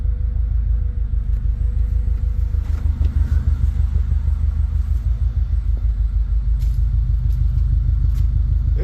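A Subaru 2.5RS engine idling just after a cold start, with a steady, low, throbbing rumble that pulses evenly throughout, close by and with no talk over it.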